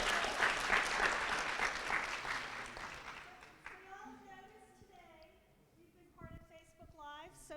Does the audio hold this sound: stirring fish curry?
no